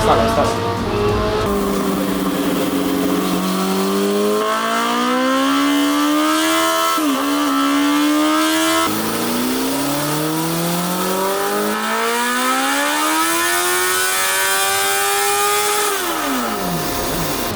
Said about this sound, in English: So we just done with the dyno on the SPEC III carbureted version.